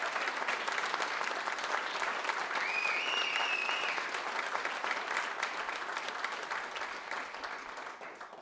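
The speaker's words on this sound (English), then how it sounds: "So one more round of applause for her." Steady, even applause from an audience honouring a woman, a dense wash of clapping that holds for about eight seconds with a faint whistle in the middle, tapering slightly at the end.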